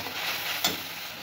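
Ginger-garlic paste with turmeric and salt sautés in a pan, a soft steady sizzle with one brief scrape of a spatula partway through.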